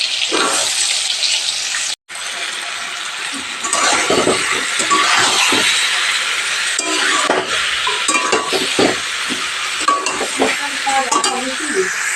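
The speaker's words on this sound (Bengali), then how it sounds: "চিকেনটা আলুটা ভেজে নেব এটা বাটবো চিকেন ধোয়াই আছে তেলও গরম হয়ে গেছে" Chicken and potato pieces fry in hot oil, giving a loud, steady sizzle with clattering stirring throughout, broken once by a brief dropout near the start.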